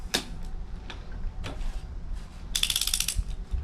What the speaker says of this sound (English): tighten them down with the torque wrench, use it as a ratchet